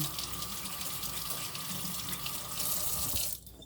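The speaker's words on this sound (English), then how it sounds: "So let me wash my hands very quickly." A kitchen tap runs steadily while hands are washed under the stream, a constant rushing of water that shifts slightly as hands move, then cuts off abruptly near the end; no one talks.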